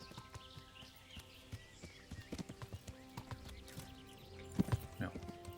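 Hooves clip-clop in a steady trotting rhythm, with a brief horse whinny near the end over a quiet background of game music, from the video game Kingdom Come: Deliverance.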